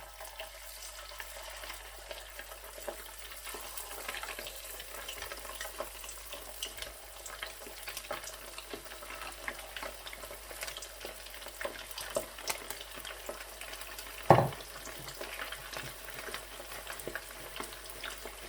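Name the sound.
chicken pieces frying in oil for chicken manchurian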